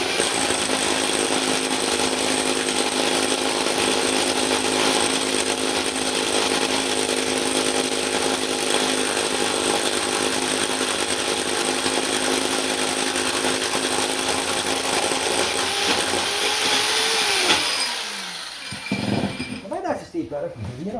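Power drill boring a bit through a wall, a loud continuous whining grind that runs steadily for about seventeen seconds before winding down, followed by a few faint knocks and a brief voice.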